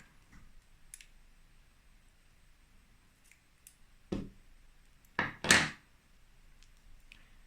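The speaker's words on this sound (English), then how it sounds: "so we can just snip it off" Scissors snip off a crocheted yarn tail, a few sharp close clicks and snaps, with one louder double cut near the end, in an otherwise quiet room.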